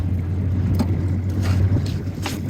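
Steady wind roars across a fishing boat on open water during hoop and wire net fishing, a constant broadband rush with low droning hum and occasional gusty swells, no talk.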